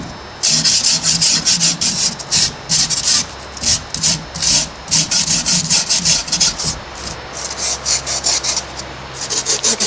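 A large wooden gingerbread man prop has its edges sanded by hand, with loud, close, rhythmic back-and-forth rasping strokes that keep going steadily without pause.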